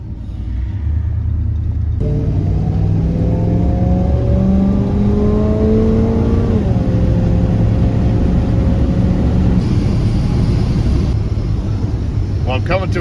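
Car fitted with Holley Sniper fuel injection pulling away after being shifted into drive, engine rumble rising as it accelerates, then holding a steady loud drone from inside the cabin.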